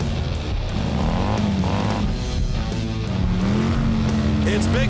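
Hot Wheels toy monster trucks Demo Derby and Bigfoot race through an obstacle course, a continuous loud engine-revving roar with rising and falling pitch under an excited commentator's voice throughout.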